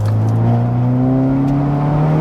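A 400 bhp VW Polo GTI accelerates hard in third gear, its engine drone loud and close and climbing steadily in pitch for a couple of seconds with no pause.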